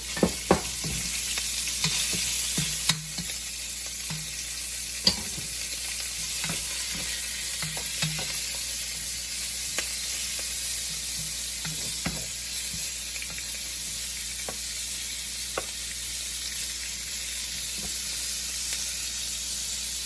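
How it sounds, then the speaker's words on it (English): Andouille sausage sizzles and fries steadily in a pot of bacon fat for jambalaya, a constant hiss broken by a few sharp pops and the occasional scrape of a stirring utensil, with no talking. "next we're going to add our andouille sausage"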